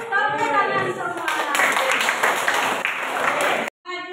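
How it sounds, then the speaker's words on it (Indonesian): A classroom group claps hands together in a brief burst of applause, with people talking over it. "Yes, tepuk tangan semua."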